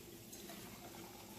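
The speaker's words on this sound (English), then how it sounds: "We're just going to take that boiling vinegar and we'll pour that into" Boiling vinegar pours into a deep container to blacken a Mora knife blade, a short steady liquid rush and splash close by.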